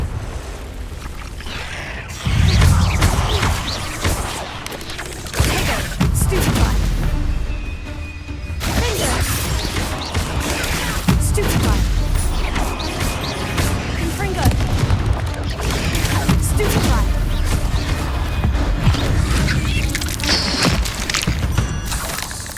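Repeated Confringo fire-spell blasts in a Harry Potter video game, loud booming crashes that recur every few seconds across a dense, noisy battle soundscape, with a voice calling out between them.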